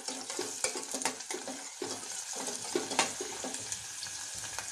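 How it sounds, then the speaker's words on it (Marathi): Finely chopped onion sautés in hot oil in a pan, a steady close sizzle broken by repeated scraping stirs of a spatula. "कांदा छान परतून घ्यायचा आहे।"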